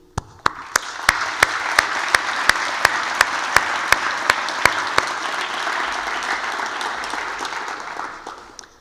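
An audience at an award ceremony claps in warm, sustained applause that holds steady before tapering off, with a few sharp louder claps ringing out near the microphone through the first half.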